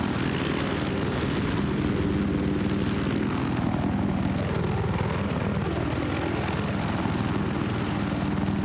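A helicopter in a Battlefield 4 multiplayer match drones with a steady rotor and engine roar that holds at an even level throughout, with no voices on top.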